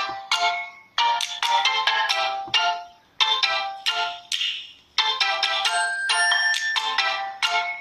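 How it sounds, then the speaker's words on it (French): A HOMTOM HT37 Pro smartphone plays its ringtone, a loud, bright electronic melody in repeated bursts of notes with short gaps between phrases. It is close and heard alone. "Je vais vous faire écouter le son de la sonnerie."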